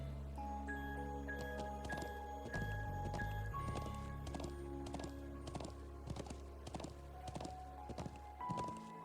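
Steady, rhythmic clip-clop of horse hooves walking in The Legend of Heroes: Trails of Cold Steel video game, layered over continuous game music and ambience, ending with a brief pause.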